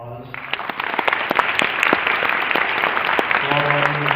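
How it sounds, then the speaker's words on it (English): An audience at a school National Junior Honor Society induction ceremony claps for the inductees, with a steady patter of many hands. A voice speaks briefly at the start and again near the end. "Let's have a round of applause."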